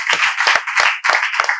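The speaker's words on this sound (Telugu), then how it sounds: "వీళ్ళందరూ చప్పట్లతో మీకు స్వాగతం పలుకుతున్నారు." A group of students clapping in welcome at a spoken English training class, close and loud, with bursts of hand claps coming in uneven waves for under two seconds.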